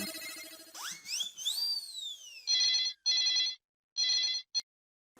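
Telephone ringing with a bell-like electronic ring in three loud bursts with short gaps, following a rising whooshing tone and busy background noise.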